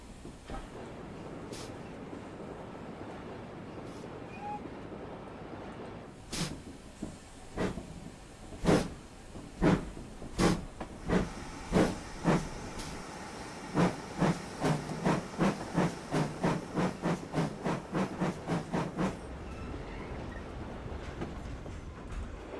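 Steam locomotive 4555 on the Dean Forest Railway in a train simulator game, hissing steadily, then starting up with sharp exhaust chuffs that come faster and faster before fading back into a soft hiss.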